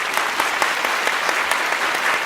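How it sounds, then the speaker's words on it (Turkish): Studio audience at a televised quiz show breaking into loud, dense applause, a continuous close clatter of many hands. "bir kocaman alkış verelim"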